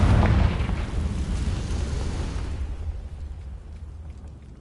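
The Confringo fire spell explodes in Hogwarts Legacy with a heavy boom that hits at once, then rolls off into a fading rumble and crackle over several seconds.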